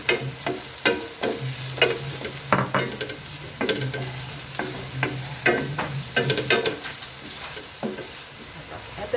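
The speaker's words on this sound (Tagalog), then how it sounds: "So, papunta na siya sa pagiging transparent yung ating sibuyas. Ilagay naman na natin ang ating bawang." Onion and garlic sauté in a pan for a misua and canned saba mackerel dish, giving a steady close sizzle with frequent sharp scrapes and clacks of a stirring utensil, and no voices.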